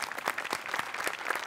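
Studio audience applauding on a Marathi television comedy show, brisk close clapping with quick individual claps standing out, brief and lively.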